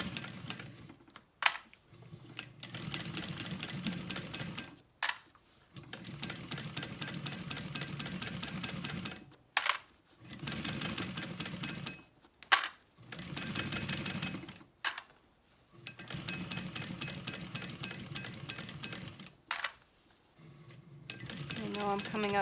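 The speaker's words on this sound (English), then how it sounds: "as I'm pushing it through my machine, I'm feeling for a zipper pull somewhere" A sewing machine stitches a backpack zipper seam in repeated bursts of rapid mechanical whirring, each separated by brief pauses, close and fairly loud.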